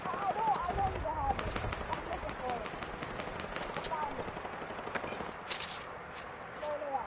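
Gunfire in the Fortnite video game, with rapid bursts and single shots cracking repeatedly over a busy background while voices talk.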